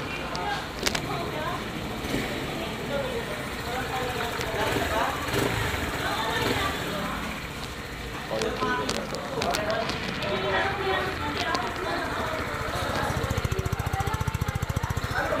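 A new Euro Samurai 155i motorcycle engine idles with a rough, rapid chatter and swells into throttle blips, loud and close, with people talking over it.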